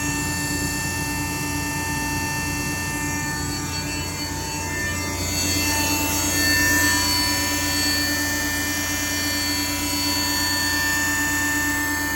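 A 15-ton Hannifin hydraulic press runs with a steady, dense mechanical whine and hum full of sustained tones, swelling slightly in loudness partway through and continuing unbroken.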